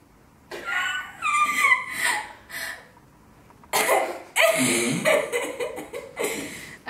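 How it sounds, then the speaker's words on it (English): Several bursts of coughing and throat noises close to the mic, broken by a short quiet stretch, with no words spoken. "And now I'm gonna cough."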